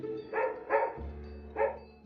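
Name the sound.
pug dogs barking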